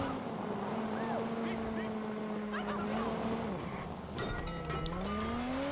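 A car driven in the video game Watch Dogs: a continuous engine drone rises and falls in pitch with gear and speed changes, and tire noise and some talking run over it.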